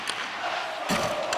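A hockey arena crowd in the video game NHL 25, during a tied Stanley Cup Final game between Florida and Edmonton, gives off a loud, continuous roar with a few sharp thuds, under a commentator's voice.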